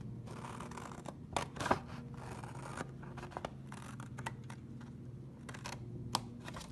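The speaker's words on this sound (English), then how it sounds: "you can use your trimmer or just use scissors and cut on the line" Quiet snips and crisp rustling of scissors cutting through paper, a series of irregular cuts close by against a soft background hum.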